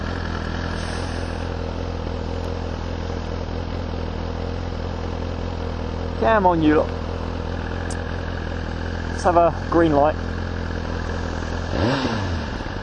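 A Suzuki GSX-R1000 sport motorcycle engine idles with a steady low rumble, broken by a few sharp revs, while someone speaks briefly nearby.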